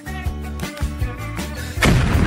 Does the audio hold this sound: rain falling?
no